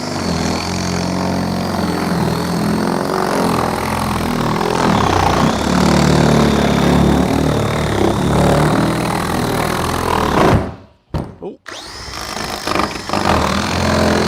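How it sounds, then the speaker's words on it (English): A power drill on its fast setting bores a hole through a septic tank wall, a loud continuous whine and grinding that runs for about ten seconds before stopping abruptly, then briefly restarting. "Now, the drill setting, there's 1 and 2 settings. I put it on the fast setting here because the faster it is, the cleaner the hole"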